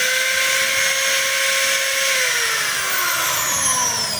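A DeWalt DWD014 3/8-inch electric drill runs continuously, with a close, whining motor hum that slowly sags in pitch as it spins down.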